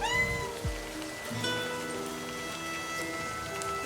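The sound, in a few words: cat meowing in video game Livber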